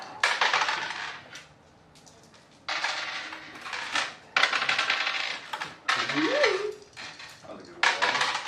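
Two dice are rolled repeatedly on a hard surface, producing bursts of clattering rattles that stop and start in an uneven rhythm, with occasional speech between the rolls.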